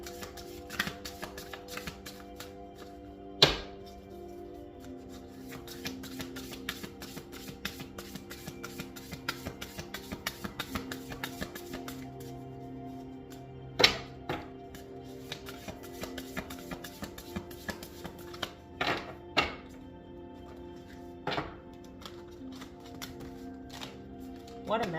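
Tarot cards shuffled by hand in a quiet room, with a steady soft riffling broken by several sharp taps and slaps of the deck, all close and fairly quiet, with no one talking.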